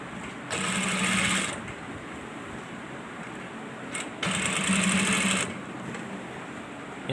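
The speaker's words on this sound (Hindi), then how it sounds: "ये 3 दफ़ा सिलाई लगानी है ताकि मजबूत हो जाए" An electric sewing machine runs in two steady bursts of about a second each, stitching a man's shalwar three times over for strength, with a quiet pause between runs.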